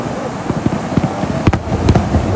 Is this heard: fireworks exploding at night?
yes